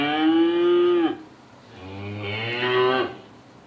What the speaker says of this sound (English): A cow sounds like this.